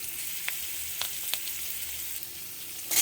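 Whole tempering spices, asafoetida and chopped ginger fry in hot white oil in a kadai, producing a steady, close crackling sizzle with a few sharp pops and a louder burst right at the end.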